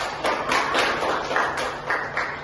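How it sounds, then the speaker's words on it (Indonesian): Students in a multigrade classroom clap together, a fairly even burst of handclaps that swells and eases over a couple of seconds, moderately close with no clear talk. "berikan tepuk tangan untuk"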